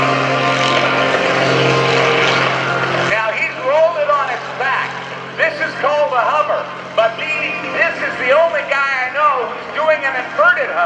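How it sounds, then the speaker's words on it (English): A propeller aerobatic plane performs an inverted hover at the 2015 NAS Oceana airshow. Its engine roars loudly at first, then continues as a lower droning buzz beneath an announcer's excited commentary over the public address. "an inverted hover. Zero airspeed. How about that for Gary Ward? He stopped it like a helicopter"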